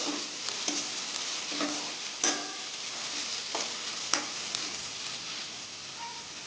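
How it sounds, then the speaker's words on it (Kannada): Sliced onions fry in oil until golden brown, a soft, steady sizzle at moderate distance broken by several sharp scraping taps of a stirring spoon against the pan. "ಇದು ಗೋಲ್ಡನ್ ಬ್ರೌನ್ ಆಗೋ ತನಕ ಹುರ್ಕೊಳ್ಳಿ."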